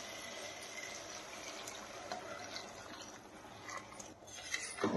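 Hot water poured from a pot onto soaked rice for mushroom biryani, a steady rushing splash that holds for several seconds and swells near the end.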